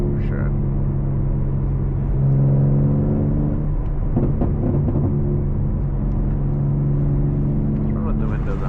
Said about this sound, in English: I like the way an inline 6 sounds, so I want to keep that sound for sure.